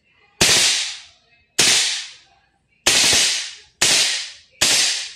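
Five loud, sharp reports from a VFC BCM MCMR MK2 full-metal gas blowback airsoft rifle, each crack followed by a decaying hiss, spaced about a second apart and heard alone.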